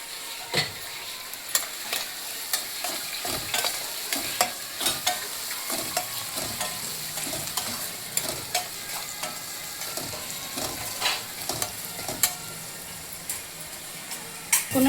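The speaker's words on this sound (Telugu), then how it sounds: "ఈ విధంగా వేగుతుంది." Onions and tomatoes with a little turmeric frying in a pan for a brinjal and green pea curry, a steady sizzle broken by frequent clinking stirs, close and continuous throughout with no voices.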